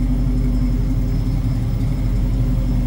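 A 1967 Chevrolet Chevelle two-door hardtop idling, a steady deep rumbling engine drone with a slight uneven pulse, close and fairly loud, with no voices over it.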